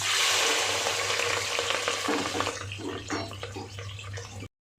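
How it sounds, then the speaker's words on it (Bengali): Onions and green chillies fry with whole spices in a pan for a mutton curry. A steady, close, hissing sizzle carries on with no voices until it cuts off abruptly. "এখন পেঁয়াজটা ভাজা ভাজা হয়ে গিয়েছে"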